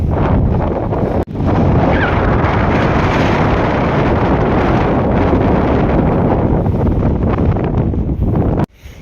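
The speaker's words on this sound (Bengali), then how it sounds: "এখানে হাওয়া চলছে এমন ধারণার বাইরে হাওয়ার কারণে থেকে যাওয়া যাচ্ছে না" Strong wind blows across the barren moonland landscape of Ladakh, roaring loud and continuous against the microphone while cycling, with two sudden brief dropouts.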